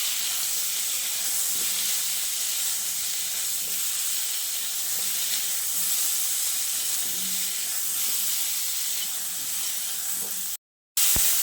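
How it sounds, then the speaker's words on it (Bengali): Cauliflower frying in hot oil over a high gas flame, a steady loud hiss and sizzle running almost unbroken, with a brief cut near the end. "ওই তেলের মধ্যে আমি ফুলকপিগুলোকে ভেজে নিচ্ছি"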